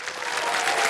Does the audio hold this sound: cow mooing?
no